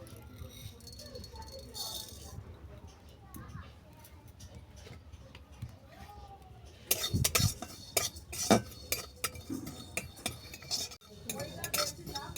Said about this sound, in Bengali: এরপর কিছু মশলা আমি ডাইরেক্ট করে নেব। মশলাতে নিয়েছি সর্ষে, 5 ফোড়ন আর রাঁধুনি।